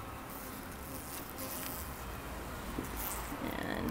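Bees drone in a dense, steady buzz around a beehive frame held up outdoors, close and continuous with faint handling sounds and no clear talk.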